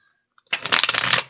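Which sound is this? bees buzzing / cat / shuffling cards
shuffling cards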